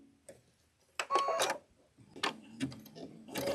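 Embroidery sewing machine stitching a locking stitch, heard as short mechanical bursts of rapid clatter separated by brief pauses, moderately loud and close, with no talk.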